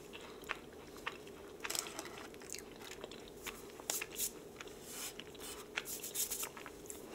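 Someone bites and chews a Ladurée macaron from Paris, producing crisp, close crunches and soft squishing chews in a quiet, intimate setting with no talking.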